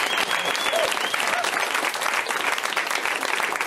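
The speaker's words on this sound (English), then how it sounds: "You can clap for me." Loud, dense audience applause fills a stand-up comedy show, a steady wash of clapping from a crowd that carries evenly through the whole stretch without letting up.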